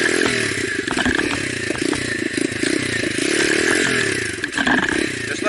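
A motorcycle engine revs loudly and close, the clutch popped in first gear for a wheelie, giving a continuous raspy roar with clattering and rattling mechanical noise over it.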